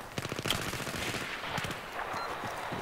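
Rapid bursts of submachine gun fire in the video game Battlefield 3, quick automatic rattles repeating in short volleys, fairly close and loud.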